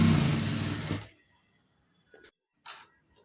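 A sewing machine runs a continuous burst of stitching on a lining blouse for about a second, then stops, followed by a couple of faint brief clicks and rustles in a quiet room.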